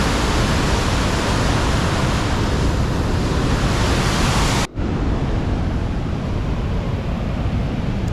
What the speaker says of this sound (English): just to get a better view of the waterfall flowing down